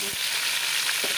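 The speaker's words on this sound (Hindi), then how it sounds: "ये आयल में लहसुन अदरक फ्राई हो गया है" Garlic, ginger and tomato paste fry in oil for an aloo gobhi curry, a close, steady sizzle with a couple of faint stirring knocks and no talk.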